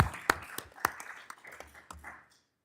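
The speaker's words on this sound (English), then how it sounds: "We have a nice round of applause for the committee." Brief applause at a city council meeting for the committee, a handful of scattered close hand claps that thin out and stop within a couple of seconds.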